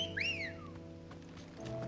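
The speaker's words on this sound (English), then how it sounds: "Wolf whistle" A two-tone wolf whistle rises and falls once, bright and close, inside Final Fantasy XVI, ringing out over a steady hum of game music and ambience.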